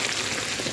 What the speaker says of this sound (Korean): 고기가 좀 튀겨지는 중입니다.